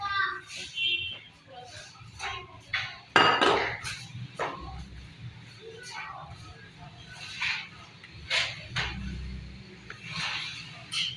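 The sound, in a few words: mixing gram flour batter for potato vegetable pakoras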